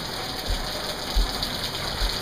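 Heavy afternoon rain shower on Daniel Island, a dense, loud, continuous hiss of rain with a few soft low thumps underneath and no voices.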